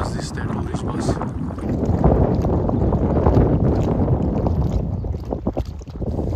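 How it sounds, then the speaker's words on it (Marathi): Steady wind buffets the microphone with a low rumble, continuous throughout with slight gusting swells, outdoors by a lake ringed by mountains. "वारा कंटिन्यू चालू राहते कारण डोंगर आहेत आजूबाजूला"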